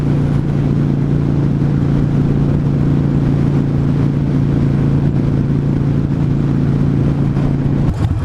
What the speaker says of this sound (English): I'm going to shut up real quick so you guys can hear the wind